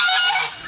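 A single loud, raspy honk from a goose on a farm with swan geese and an American buff, close and brief.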